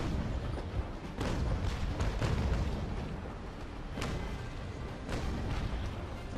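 Ship cannons firing in the naval battle game Naval Action, with a dense stream of booming shots and rumbling blasts layered over constant ocean and battle noise, loud throughout.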